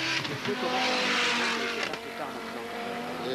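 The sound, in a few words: rally car driving fast, 1985 Monte Carlo rally stage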